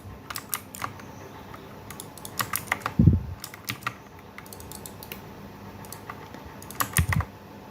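Someone types a Linux shell command on a computer keyboard, with scattered key clicks, short quick runs and a couple of heavier thumps near the middle and end, close and clear with no speech.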